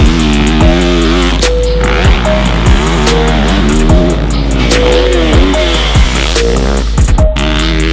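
A 2022 Yamaha YZ450F dirt bike is ridden hard, its loud, close engine repeatedly revving up and dropping back between shifts and throttle chops, with no talk.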